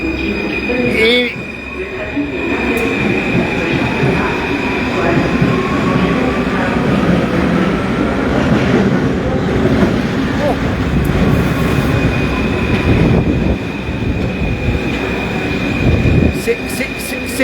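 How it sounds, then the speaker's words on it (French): A busy underground metro station with a train rumbling steadily through, constant loud low-end roar and faint wheel or brake squeal, crowd murmur mixed in throughout. "c'est la foule ce soir dans la station de métro"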